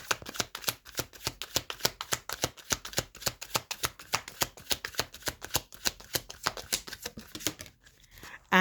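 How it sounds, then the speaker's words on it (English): Tarot cards are shuffled in a fast, steady riffle of crisp, close flicks that runs for several seconds and then stops. "I'm going to pull another card."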